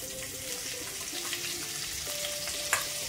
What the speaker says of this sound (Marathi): लसूण आपल्याला छान ब्राऊन रंगावरती तळून घ्यायचा आहे छान